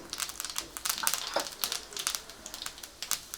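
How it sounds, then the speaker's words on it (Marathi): Dense, rapid crackling and popping of mustard seeds spattering in hot oil, sharp bright pops scattered steadily throughout, with no voices. "मोहरी तडतडली की गॅस बारीक करायचं आहे"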